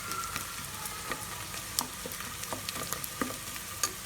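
Onions frying in a pot for chicken karahi give a steady, fairly quiet sizzle with small scattered crackles and pops running throughout.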